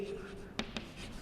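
A pen scratches across paper while writing up an accounts narration, two short distinct strokes under quiet background hiss.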